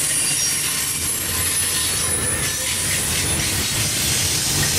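Norfolk Southern westbound intermodal freight led by AC44C6M, ES44DC and Dash 9 locomotives rolling through Alliance, a loud steady roar of wheels and rail noise with hissing and faint squeal throughout, no pauses.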